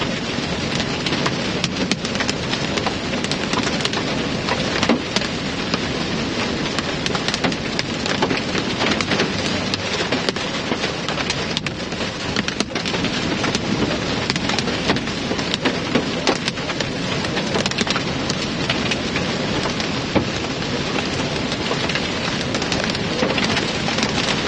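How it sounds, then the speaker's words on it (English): Small hail and heavy rain pelt steadily during a Nebraska storm, a dense, continuous loud patter with scattered sharper impacts throughout and no pauses. "This is really small hail"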